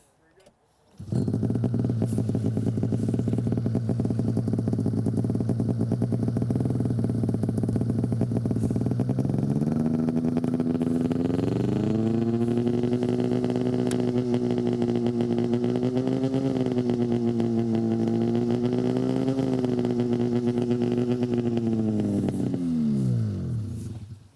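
A snowmobile engine starts and settles into a steady, loud idle, then revs up to a higher held pitch around 4,000 RPM before dropping off at the end, with no talk.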